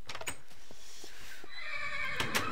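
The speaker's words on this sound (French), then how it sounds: "mes amis les chevaux, vous êtes les bienvenus sur mon territoire" A horse in the video game Minecraft neighs in a clear, loud whinny near the start, then again toward the end as a second bright burst, with no talking.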